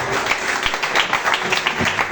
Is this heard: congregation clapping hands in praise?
yes